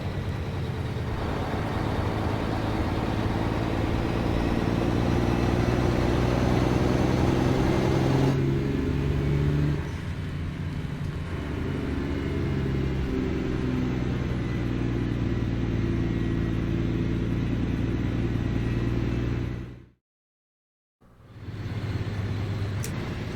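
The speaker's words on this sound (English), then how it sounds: "Hear that turbo whistle as I work the engine hard." A Mack truck engine in American Truck Simulator, worked hard with turbo whistle, gives a loud, steady low drone with a layered harmonic hum that holds throughout, dropping out briefly near the end before resuming.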